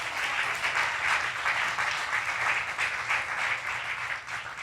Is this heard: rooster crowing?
no